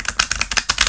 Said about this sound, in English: this deck is so buttery soft when I shuffle